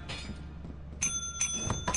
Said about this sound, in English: Don't ring the bell too many times.